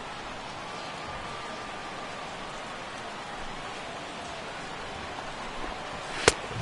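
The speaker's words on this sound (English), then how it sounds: "The rain, as we've mentioned, coming down fairly steadily" Steady rain falls on a baseball game in MLB The Show 16, a soft even hiss throughout with a brief sharp crack near the end.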